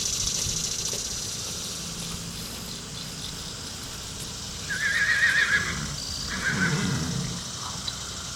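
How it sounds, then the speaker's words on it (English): A horse whinnies twice over a steady outdoor hum, the calls mid-distance and moderately loud against the background. "Got some more horses here."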